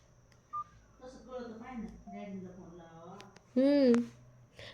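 A few short phone keypad beeps sound close by, with a voice talking in between.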